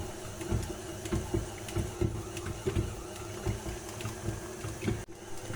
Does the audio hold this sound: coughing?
no